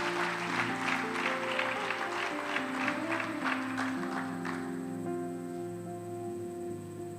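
A church congregation claps through the first half, a fairly faint patter that thins out around the midpoint while sustained musical tones carry on underneath and then continue alone.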